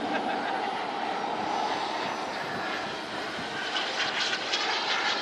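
A model jet aircraft at a jet meet, its steady broadband engine roar filling the clip continuously as it comes in to land, fairly loud and without any talk.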